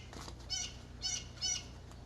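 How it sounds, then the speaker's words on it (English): Birds out in the countryside chirp in three short, bright bursts spaced about half a second apart, faint against a low steady background hum. "Yeah, you get to hear the birds."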